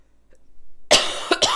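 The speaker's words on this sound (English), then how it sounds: "let me grab a drink of water though and cough again." An adult gives a short sequence of close, harsh coughs after a quiet pause, three quick bursts within half a second, loud and dry.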